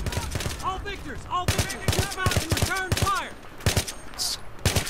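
Rapid bursts of gunfire from a hard-recoiling gun in the video game Battlefield 3, several clustered shots in quick succession, loud and close, with a voice talking between the bursts.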